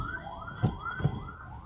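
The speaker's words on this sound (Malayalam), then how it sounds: "അയ്യോ, ആംബുലൻസ്." A wailing emergency siren rises and falls in repeated sweeps, fairly near and steady, with a couple of brief low thumps underneath.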